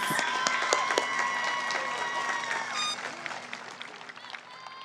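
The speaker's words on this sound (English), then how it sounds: "Let's give them a round of applause, please." A graduation audience applauds the class of 2024 at Hueneme High School, a broad, steady wash of clapping from a large crowd, with faint tones and scattered voices underneath.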